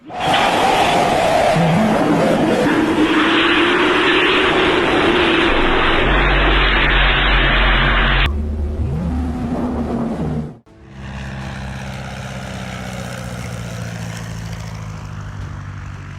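Propeller airplane engine droning loudly and close, its pitch wavering and shifting, then cutting off abruptly and giving way to a lower, steadier rumble.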